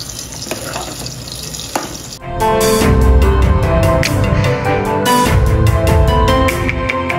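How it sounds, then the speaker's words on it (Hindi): Hot water pours into a pan of chicken masala after a quieter stretch, bursting into a loud, sustained sizzling splash that continues steadily to the end. "थोडंसं हलकंसं पाणी टाकूया आपण"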